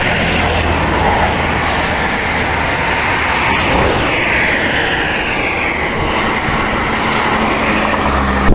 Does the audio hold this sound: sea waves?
no